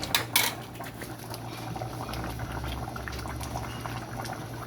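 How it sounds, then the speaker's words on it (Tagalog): Fish in coconut milk with vegetables simmers in a pot, giving a steady close bubbling boil. A couple of light clinks come near the start, and no one talks. "Kulo na guys. Ikot na yung gata."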